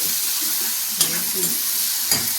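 Spices sizzle and crackle in hot oil while tempering dal, a steady close-up frying hiss with a few sharp stirring clinks on top and no voices.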